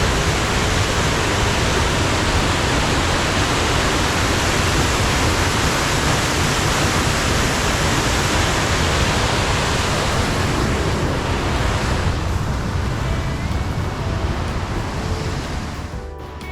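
Cascada Valul Miresei waterfall rushing loudly and steadily as a dense, unbroken roar, close and constant for the whole stretch, easing slightly at the very end; no talk.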